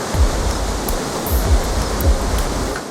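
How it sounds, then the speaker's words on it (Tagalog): Strong typhoon wind roars in heavy continuous gusts during a tropical storm in the Bicol region at Christmas, with deep buffeting thumps repeating roughly every half second; no speech. "Malakas sa hangin."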